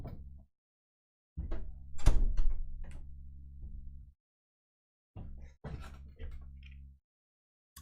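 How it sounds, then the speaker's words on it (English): A door is pushed shut in a home, giving several soft thumps and knocks in quick bursts separated by short silences, fairly close and clear with no talking over it. "I'm going to just shut my door quickly"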